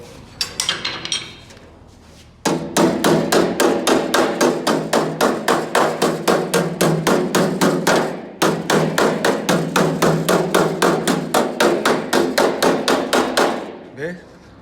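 Repeated metal strikes of a body hammer beating out a dent in hard car body sheet metal, a steady fast rhythm of loud, close, ringing blows that stops once briefly and then resumes, with no talk over it.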